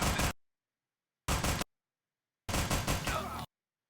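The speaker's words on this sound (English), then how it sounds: "Takes like a gazillion shots to get this tango down" Gunfire in a tactical shooter video game: three loud, close bursts of rapid shots separated by silence, the last burst running about a second.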